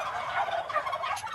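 Free-range turkeys gobble in a steady, loud chorus, several birds calling over one another close by with no voices.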